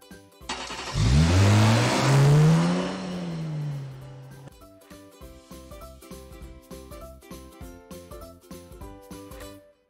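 Cars pull away at a green traffic light on an Italian street, one engine revving loudly and close before easing off into steady, rhythmic passing traffic.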